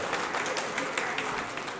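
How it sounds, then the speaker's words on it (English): An audience at a talk applauds together, a dense, even wash of many hands clapping that holds steady from start to end. "give yourselves a round of applause"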